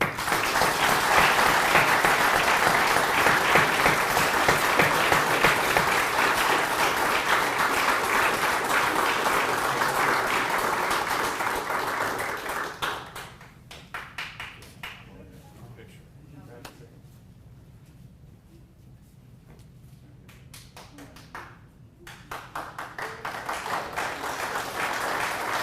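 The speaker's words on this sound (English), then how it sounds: "Let's give a round of applause." Loud, sustained applause fills a military promotion ceremony for a Wyoming Army National Guard major becoming lieutenant colonel, clapping steady for about thirteen seconds before dropping to a quieter room with scattered sounds, then swelling again near the end.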